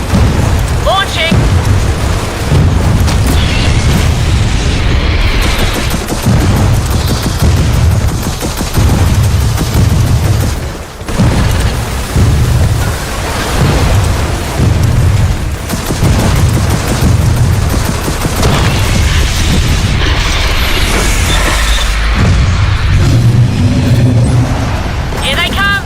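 Missile launches and heavy explosions in Gears of War 4, loud rumbling booms and whooshing blasts layered with gunfire and game voices over a sustained battle roar.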